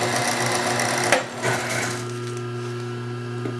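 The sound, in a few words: sewing machine winding a bobbin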